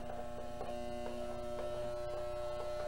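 A sewing machine stitches fabric slowly along a curve, its motor humming steadily under a regular run of soft mechanical pulses about twice a second.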